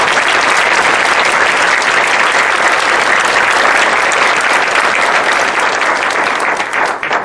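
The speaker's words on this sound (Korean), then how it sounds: "다시 한번 큰 박수 부탁드립니다" Sustained, loud applause from a seated audience at a court-hosted public humanities lecture, steady and dense throughout before tapering slightly at the very end.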